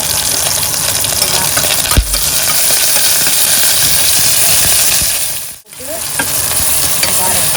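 Pineapple curry sautés in a pan with a loud, constant close sizzle and hiss, broken by stirring scrapes and a brief dip in the noise near the end.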